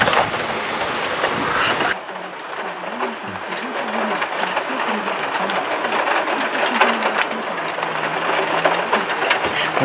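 Steady hiss of rain falling during a morning thunderstorm in Łowicz, Poland, after a sudden cut in the first two seconds, with a voice talking over it.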